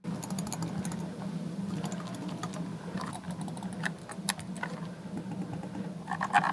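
Computer mouse buttons are pressed in a run of light, crisp clicks. The clicks sit close and fairly faint over a steady low electrical hum.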